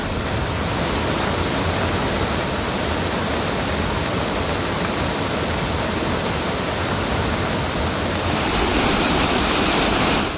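Flood water roars down the Jigrai stream in Kullu's Parvati Valley, Himachal Pradesh, after a monsoon cloudburst. A dense, steady rush of noise fills all ten seconds at close range, with no talk.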